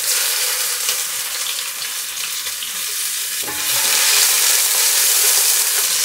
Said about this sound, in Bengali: ওই একই তেলে চিংড়িগুলোকে একটু হালকা করে ভেজে নিব